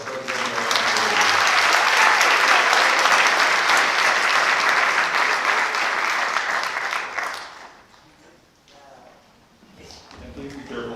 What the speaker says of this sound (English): let's give one more round of applause for our president and our secretary